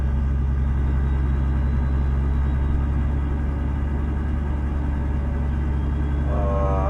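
Loud, constant low rumble of a Mack B61 truck engine heard from inside the cab in American Truck Simulator, droning steadily throughout with no voices.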